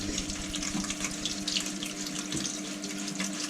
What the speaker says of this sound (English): Are you having a shower?